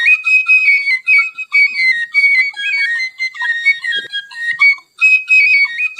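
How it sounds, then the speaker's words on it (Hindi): A bansuri flute melody from a Hindi cartoon bedtime story, bright sustained notes gliding through a continuous tune with short pauses, loud and close, played alone with no talking. "ये धुन तो ओम की बांसुरी की है।"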